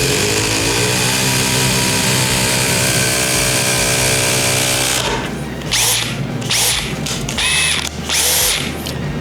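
A second-generation Milwaukee M18 FQID2 cordless impact driver drives an 8mm fastener: a loud, close motor whine runs for about five seconds, then breaks into rapid, uneven bursts of hammering as the tool torques down.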